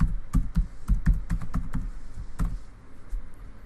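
Keys tapped on a computer keyboard in quick, uneven bursts while a password is entered, close and fairly soft, with short pauses between strokes and a longer gap near the end.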